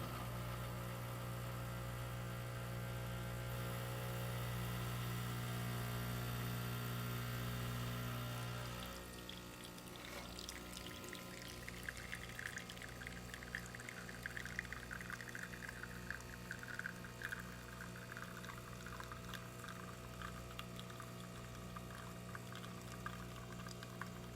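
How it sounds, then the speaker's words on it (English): A steady mechanical pump hum drones for several seconds, then gives way to a hissing, trickling flow of liquid as a freshly serviced Isomac espresso machine pulls a shot. "Let's go ahead and pull a shot"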